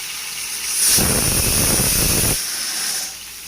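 Cardamom pods, a piece of cinnamon, cumin seeds and garam masala hit hot oil in a pan, giving a loud, steady hiss and crackle that surges for about a second and a half, then settles to a softer hiss with no talking.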